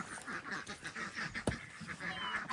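Indian Runner and Pekin ducks on a farm quack in a faint, busy, overlapping chatter of repeated short calls, with a sharp knock partway through.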